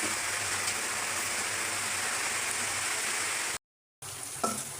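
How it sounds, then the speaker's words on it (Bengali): Garlic, onion and green chillies fry in a pan, giving a steady, dense sizzle that runs nearly throughout, broken by a brief gap of silence near the end. "এখানে রসুন পেঁয়াজ কাঁচামরিচ ভেজে নিচ্ছি"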